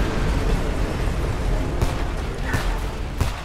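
Rocket explosions in the video game Homefront: a continuous roaring wall of blast noise with several sharper bursts near the end, loud and unbroken throughout.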